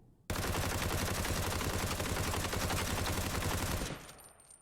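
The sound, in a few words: gun firing in Ring of Elysium video game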